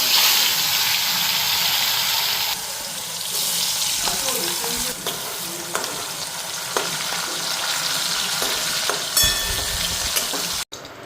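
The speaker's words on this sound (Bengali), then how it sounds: "এখন আলুগুলি ভাজুম" Potatoes and eggplant fry in oil with a loud, continuous close sizzle, broken by occasional stirring scrapes and clatters, briefly surging and hissing louder near the end.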